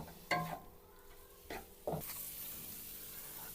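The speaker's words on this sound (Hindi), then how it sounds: "इसको हम 2 से 3 मिनट फ्राई करेंगे, जब तक चिकन का कलर ना चेंज हो जाए।" Chicken pieces fry in a pan with a steady sizzle, broken by a few louder stirring scrapes and bursts as the meat is moved around; no talking.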